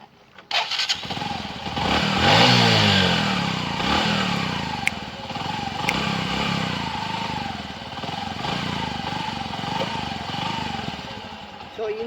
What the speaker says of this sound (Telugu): ఒకసారి ఇంజన్ సౌండ్ కూడా వినండి.